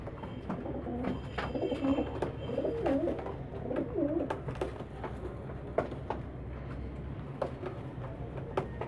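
Soft, low cooing of young homing pigeons repeats steadily over a busy murmur of birds, with occasional faint clicks and scuffles nearby.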